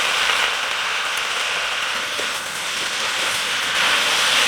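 Chicken tikka sizzling steadily in a pan with pomegranate molasses sauce, a loud, close, continuous hiss with no breaks and no talking.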